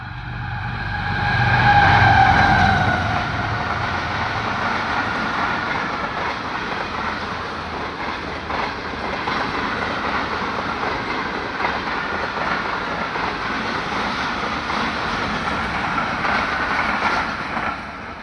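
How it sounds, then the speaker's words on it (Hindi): A Pakistan Railways G40 diesel locomotive hauling a train into Sher Shah Junction station, a loud continuous rumble and rolling wheel roar that swells early and then holds steady for many seconds, with no talk. "और रोडी शेड के सीनियर ड्राइवर मोहम्मद ज़हीर और असिस्टेंट ड्राइवर इनामुल्लाह लेके आ रहे हैं रोडी से खानेवाल।"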